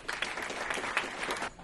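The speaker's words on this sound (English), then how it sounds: "So please round of applause for Kevin." Audience applause at a talk as a speaker is introduced, a dense crackle of many hands clapping that starts at once, holds steady and then cuts off.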